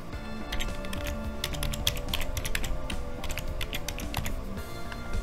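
Password being typed on a computer keyboard while resetting a SANGFOR next-generation firewall: a steady run of quick key clicks, close and moderately loud, with no talking.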